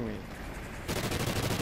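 Gunfire in the video game Call of Duty: Ghosts erupts as a sudden, loud burst of rapid shots with no break, cutting in after a quieter noisy stretch.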